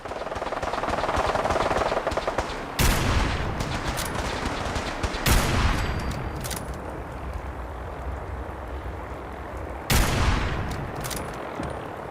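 Gunfire rings out in Fallout 4 across the Commonwealth, with several sharp, loud shots spaced seconds apart amid continuous rattling fire and reverberant background noise.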